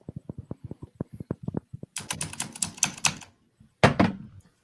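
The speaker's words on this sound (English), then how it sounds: "Why are you always hammering away at those keys?" Keys are hammered hard on a typewriter, first a steady run of separate sharp clacks, then a dense, louder burst of rapid strikes, a pause, and one final loud flurry, close up with no talk.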